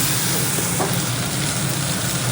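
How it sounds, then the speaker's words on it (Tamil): Keerai greens stirring and frying in a pan with urad dal and asafoetida, a steady loud sizzle throughout with no talking. "இந்த கீரையை ஊற்றிக்கணும். நல்லா கரட்டிக்கணும்."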